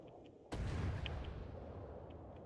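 A single heavy blast erupts suddenly, followed by a long rumbling, hissing decay, as a particle cannon fires in the video game From the Depths.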